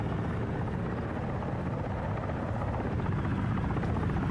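A Mi-24 attack helicopter in a military video game flies close, its steady loud rotor drone and turbine buzz filling the whole stretch without a break.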